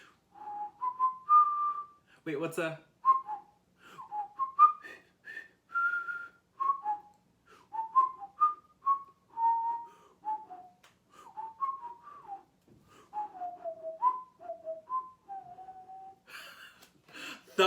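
Someone whistles a melodic tune for about eighteen seconds, a bright wavering line of notes at close range, with a short burst of speech near the start and a brief voice at the end.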